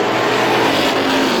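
Loud, close roar of race cars powering down the front straightaway at a speedway during a Strictly Stock feature, a dense sustained engine drone with no break.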